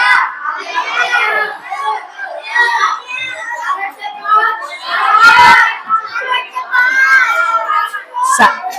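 Children in a classroom shout and chatter together in a loud, continuous jumble of young voices, with a couple of sharp bangs cutting through the noise.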